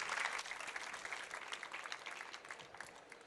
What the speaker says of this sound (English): So please give a round of applause to our 3 speakers